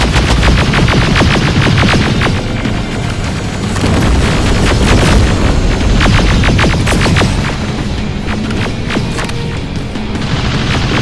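Loud, dense gunfire in the Terminator Resistance video game, rapid automatic bursts with booming impacts running continuously for several seconds.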